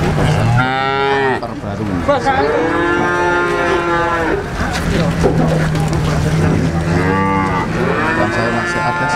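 Several cattle, including Simmental breeding stock, moo loudly and repeatedly close by at the Ambarketawang cattle market in Yogyakarta, long drawn-out calls overlapping, while a person speaks briefly amid the herd noise.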